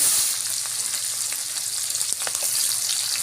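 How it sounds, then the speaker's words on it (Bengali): Onion and green chilli frying in hot oil after vegetables were fried, a steady close sizzle with occasional stirring clicks and crackles throughout, no talking. "আমি এই তেলের উপরে পেঁয়াজ কাঁচা ঝাল দিয়ে দিব।"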